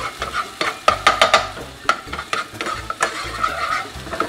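Onions frying in a pan for a sardine and tomato sauce dish: soft sizzling under repeated scraping stirs, with light clinks of utensil on pan.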